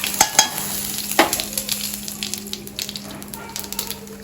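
Vada fry in hot oil with a close, steady sizzle and crackle, a few sharper pops at the start and a faint constant hum beneath, no talking.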